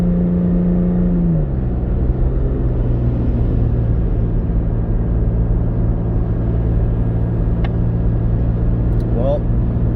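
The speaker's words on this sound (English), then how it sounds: "Yeah, the truck just downshifted by itself." A supercharged 2018 Toyota Tacoma pulling a trailer gives a steady, loud engine drone and road rumble throughout, with a pitch drop early on as the transmission downshifts on its own, and speech over the top.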